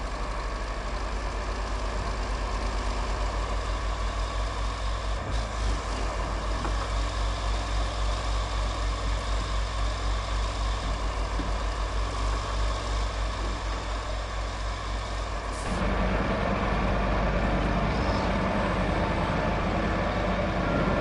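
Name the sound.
truck engine running in the video game Roadcraft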